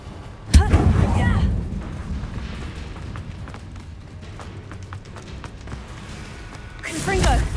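A Confringo fire-blast spell cast in Hogwarts Legacy, a sharp loud burst followed by rumbling impact noise, with a second swelling blast near the end and a voice shouting spell incantations over the combat.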